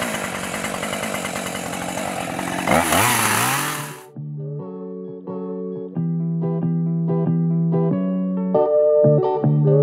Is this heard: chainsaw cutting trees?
yes